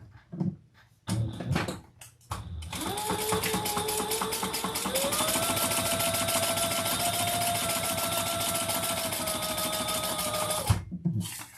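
A sewing machine stitches across fabric in one continuous, whirring run of about eight seconds, preceded by a few soft knocks and handling sounds, with the motor pitch rising slightly midway.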